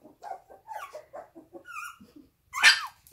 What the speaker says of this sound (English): did that bark scare you guys?